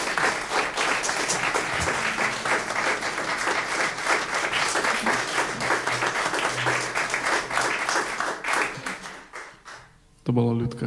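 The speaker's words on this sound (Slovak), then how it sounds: "a to si zaslúži veľký potlesk" Audience applause at a concert in Bardejov, dense and sustained clapping for about ten seconds that fades out, followed by a brief burst of sound at the end.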